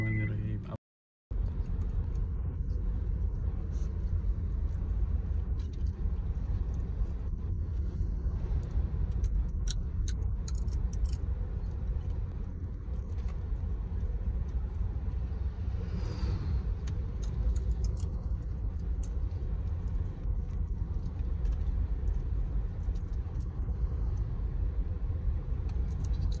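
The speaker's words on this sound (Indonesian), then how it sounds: "Setelah roda kami kembali menyentuh aspal, perjalanan berlanjut tanpa banyak jeda." A car on an Indonesian road trip through Bali, Lombok and Sumbawa driving on asphalt, with a steady low engine and road rumble from inside the vehicle throughout, after a brief dropout at the start, and occasional faint talk.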